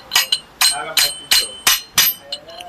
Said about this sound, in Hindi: अब हम लोग इसका पीछे के बैरिंग को भी ठोक देते हैं।